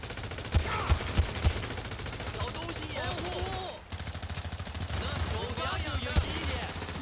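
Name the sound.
gunfire in the video game GTA 5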